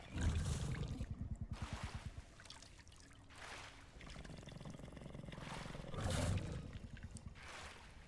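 A dinosaur in The Isle video game drinks water noisily, repeated rough slurping and gulping bursts with low rumbling growls, fairly close and loud.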